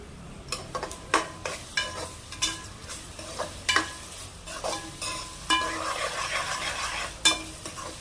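Chopped ginger fries in a pan for egg and mushroom curry, a soft sizzle broken by repeated spatula scrapes and knocks against the pan at an irregular rhythm.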